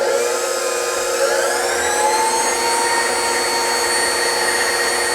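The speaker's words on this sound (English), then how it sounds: "I've got my mixer set up, and I've got a whisk attachment in there so that I can whisk 2 eggs" Stand mixer fitted with a whisk attachment beating two eggs in a bowl for brioche buns, giving a loud, close, steady high-pitched whirring drone that rises slightly in pitch as it spins up and then holds.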